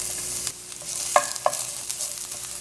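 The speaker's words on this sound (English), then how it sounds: "So to my hot pan, I am adding some coconut oil, and then I'm going to add my grated garlic and pimento." Grated garlic and pimento hit hot coconut oil in a pan for beef lo mein, giving a soft, steady sizzle with a couple of sharp clicks of utensil against the pan.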